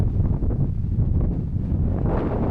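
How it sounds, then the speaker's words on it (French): Strong outdoor wind buffets the microphone in continuous, heavy gusts that produce a loud, low rumble throughout, with no voices. "Très venteux par contre."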